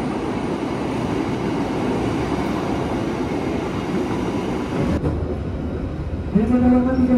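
The Bima express roars straight through a railway station without stopping, making a steady, loud rumble of wheels and carriages. The rumble eases slightly near the end, when a tonal whine or horn-like sound rises.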